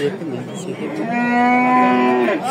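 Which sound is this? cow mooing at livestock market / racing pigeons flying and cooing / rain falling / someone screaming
cow mooing at livestock market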